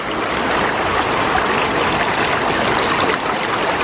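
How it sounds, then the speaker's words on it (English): Water pours into a 3D printed Archimedes screw generator, a continuous, fairly loud rushing and splashing flow that stays even throughout with no voices. "You can see it is starting to fill up, but the water is just spiraling around it, which is not ideal."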